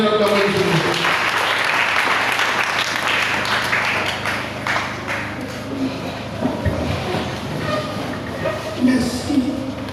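A church congregation applauds and acclaims during a worship service: loud, sustained clapping mixed with shouting voices and a raised speaking voice over the crowd.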